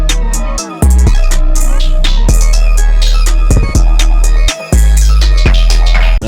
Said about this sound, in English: This is what you've been hearing as I made the beat, the TR5 Classic Clipper.